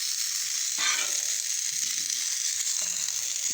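Hash browns and sausage sizzle steadily on a griddle over a modest fire, a continuous close crackling hiss with a brief louder burst near the start.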